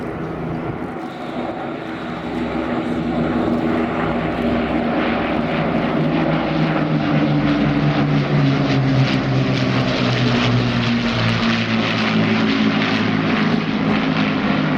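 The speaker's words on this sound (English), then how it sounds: "Here comes the Battle of Britain Memorial Flight." Battle of Britain Memorial Flight propeller warbirds passing over the Shoreham airshow, a loud sustained piston-engine drone that swells steadily and holds strong throughout, with a deep rumbling tone and a slowly shifting pitch as they fly by.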